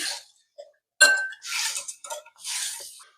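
Salt, sugar and black pepper being mixed in a bowl with a spoon, giving short, close clinks and scrapes in uneven bursts with quiet gaps between them.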